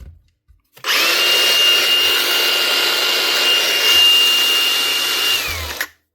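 A Milwaukee M18 grinder, freshly repaired after a fuse fix, spins up abruptly and runs at a steady high-pitched whine for about five seconds before winding down, loud and close with no talking.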